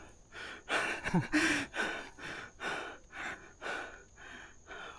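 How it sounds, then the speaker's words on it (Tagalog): Heavy, rhythmic panting from a hiker climbing uphill on a mountain trail in Kibungan, with close, loud breaths and an occasional gasp or vocal grunt. "Yung clip ko dito parang puro hingal lang."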